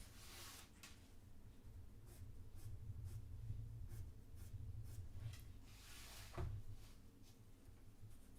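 A pencil shades a car drawing on paper, giving soft, close scratchy strokes in repeated back-and-forth passes with a sharper scrape near the end.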